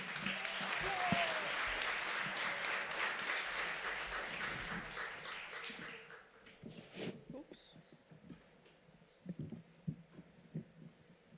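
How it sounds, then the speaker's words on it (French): Audience applause at a live French-language stage show, a dense burst of clapping that fades out partway through, followed by quieter scattered sounds and some talk. "une belle main d'applaudissement pour Akemi du Gay Léger"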